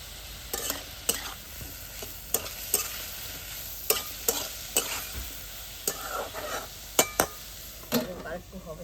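Bottle gourd peel frying with poppy seeds and a little sugar, stirred in a pan with repeated sharp scraping strokes of a spatula over a steady sizzle, close and fairly loud, with no talk.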